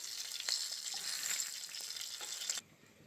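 Rupchanda (pomfret) fish frying in hot oil in a pan give a dense, steady sizzle with small crackles, which cuts off abruptly near the end to near quiet.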